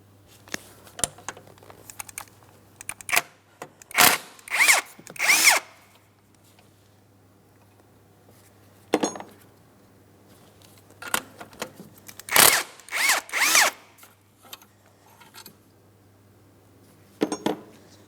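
A power tool with a 15 mm socket spins out alternator mounting bolts on a 2004-2008 Pontiac Grand Prix 3.8L, in several short, loud whirring bursts separated by pauses with faint clicks and rattles, over a steady low hum; no one speaks.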